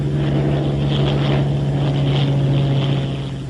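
A Bell P-39 Airacobra's engine at rated takeoff power, 52 inches and 3,000 RPM, a loud steady droning roar with a strong constant hum, holding level before easing slightly at the end, no voices.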